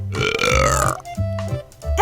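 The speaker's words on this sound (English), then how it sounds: "You burped." A cartoon baby gives a loud, close burp as a read-aloud sound effect in a children's animated story, a drawn-out belch followed by short voiced sounds.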